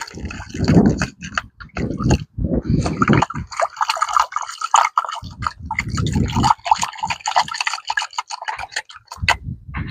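Water drains out of an engine cylinder on a locked-up Farmall H tractor, making close, irregular gurgles, splashes and drips in uneven bursts with short pauses.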